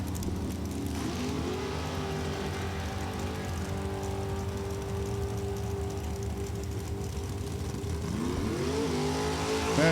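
Roaring engine of a large 598-cubic-inch dragster in Super Comp drag racing accelerating down the track, a loud sustained snarl with rising pitch sweeps as it shifts, swelling again near the end.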